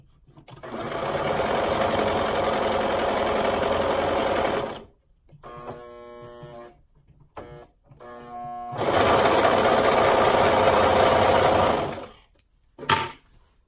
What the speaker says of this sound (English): Stitching up our shoulder seams.